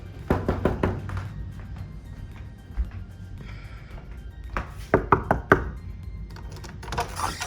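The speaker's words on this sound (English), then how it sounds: "Now we're gonna role play this downstay by knocking on the door." Knuckles rap on a door in quick bursts of several knocks, close and sharp, repeated a couple of times during dog calm-behavior training indoors, with quiet room noise between the raps.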